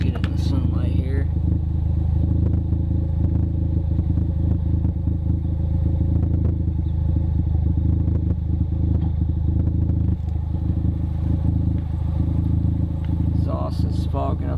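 A 2015 Ford Focus ST with a Cobb exhaust idling up close, a steady low rumble with some clatter throughout, and someone talking over it.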